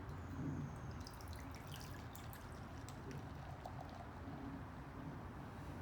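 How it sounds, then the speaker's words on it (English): Budweiser beer trickles and pours steadily into a pot with faint drips and fizzing, quiet and close, running without a break. "we're gonna pop these bad boys and we're gonna pour them in here"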